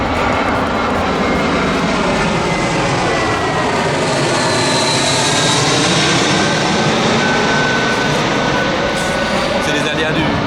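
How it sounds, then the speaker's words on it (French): Loud roar of an airplane engine overhead during a rainy geocaching event, a broad sustained rumble that swells slightly and stays dominant, with people talking underneath. "on va attendre que l'avion passe"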